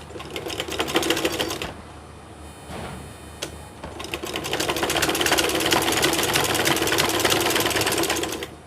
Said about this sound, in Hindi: अब इसको हम पूरी की पूरी सिलाई कर देंगे।